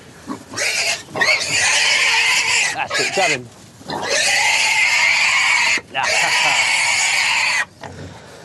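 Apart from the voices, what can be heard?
pigs grunting and oinking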